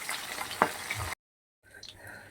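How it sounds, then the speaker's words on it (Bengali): Pabda fish sizzle in hot oil in a pan for a spiced brinjal-and-pabda dish, a close, moderate crackle with one sharp clink, broken by a half-second dropout before the frying resumes more quietly. "এইভাবে সব মাছগুলোকে আমি ভেজে নেব"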